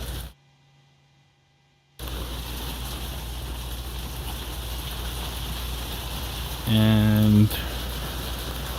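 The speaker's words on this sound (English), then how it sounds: "it is raining super hard" Heavy rain pours steadily and loudly throughout during a Microsoft Flight Simulator 2020 VR session, briefly cut by a dropout near the start, with a short tonal beep and a single spoken word over the downpour.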